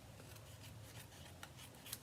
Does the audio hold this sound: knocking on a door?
no